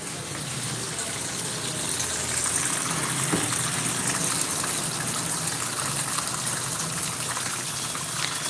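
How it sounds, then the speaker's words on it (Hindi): Water splashes and sloshes steadily as clothes are washed by hand, a continuous close gushing wash of water with no breaks and no talk. "कपड़ा धो रही हूँ, पानी लगाई हूँ"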